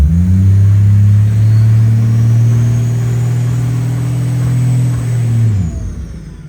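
A Toyota 1JZ-GTE VVTi engine with a larger turbo and factory torque converter revs up loud and steady to stall speed around 2300 RPM, holding a deep droning tone for about five seconds before dropping away.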